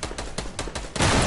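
Gunfire in the video game Fortnite: about five sharp shots in a fast, even rhythm, then a louder, denser burst of overlapping fire.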